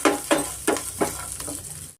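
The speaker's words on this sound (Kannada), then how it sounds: "ಇಷ್ಟನ್ನು ನಾವು ಫ್ರೈ ಮಾಡ್ಕೊಡ್ಬೇಕಾಗತ್ತೆ." Green chillies, grated ginger and asafoetida frying in a pan, with short bursts of sizzle and stirring as the spices hit the hot oil; close, moderate level, about two seconds and no talk.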